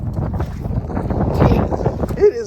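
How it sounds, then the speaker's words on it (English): Gusty wind buffets the microphone while someone rides a bicycle outdoors in rain and slush, a loud continuous rumble with voices talking over it. "It is windy out here."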